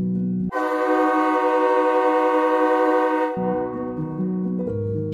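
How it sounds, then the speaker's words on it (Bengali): A Maa Tara Express train leaving Sealdah station sounds a loud, sustained horn blast lasting about three seconds, followed by a lower, shifting tone as the train pulls away. "আমাদের ট্রেন একদম রাইট টাইমে ছেড়ে দিয়েছে"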